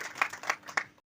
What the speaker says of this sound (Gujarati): એક વાર તાળીઓથી વધાવીએ